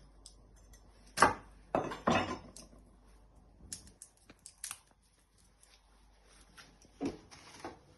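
A knife trims the ends of a single garlic clove for an Italian meatball sauce, giving a few sharp, close cuts and taps on a board, with long quiet gaps between them.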